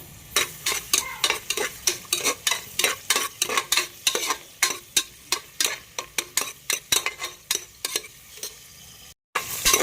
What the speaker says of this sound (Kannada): ಅದೇನು ಹೆಚ್ಚಿಟ್ಟಿದ್ವಲ್ಲ ಈರುಳ್ಳಿ ಅದನ್ನ ಹಾಕೋಣ ಚೆನ್ನಾಗಿ ಫ್ರೈ ಮಾಡ್ಕೊಳ್ಳಿ